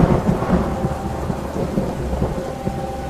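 Heavy rain pours steadily outside a lakeside cabin while deep thunder rumbles roll low underneath, loud and continuous with no voices.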